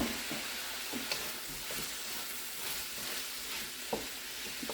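Garlic sizzles steadily in a hot pan for vegan fried rice, a close, even crackle of frying with a few faint clicks of stirring and no talk.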